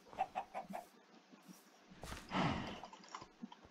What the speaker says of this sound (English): I want to click on this chicken